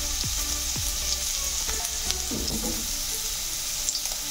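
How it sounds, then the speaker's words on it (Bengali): Carrots fry in a pan with a continuous close sizzle, broken by a few stirring scrapes and spattering pops, with no voices. "ভাজতে ভাজতে গাজর ভাজা হয়ে গেছে।"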